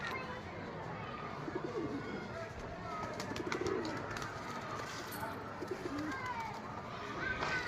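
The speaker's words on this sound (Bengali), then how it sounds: "এই যে পায়রাটা" Pigeons at a pigeon house, including a large red-eyed bird, coo softly and intermittently against steady background noise, with faint chirps scattered through.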